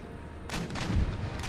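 Artillery fire from howitzers in the battle game Empire: Total War, with a sudden loud cannon boom followed by a rumbling roll of further blasts in a busy battlefield mix.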